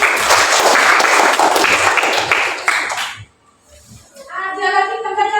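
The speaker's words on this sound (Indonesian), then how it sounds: "Tepuk tangan buat Mas Devi." Fifth-grade schoolchildren in an Islamic studies classroom clap for a classmate: a dense, loud burst of applause lasting about three seconds, then quiet and an adult voice speaking.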